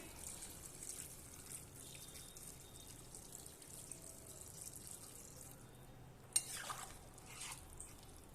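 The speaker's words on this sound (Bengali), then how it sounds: "এবার আমি জল দিয়ে দেবো।" Water running from a tap into a cooking pot for jackfruit dal, a faint, steady pouring hiss followed by a brief louder splash and clatter near the end.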